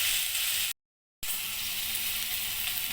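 Besan-coated pumpkin leaves sizzling in hot oil in a kadai, a steady close crackle broken by a short silent gap before the frying hiss resumes.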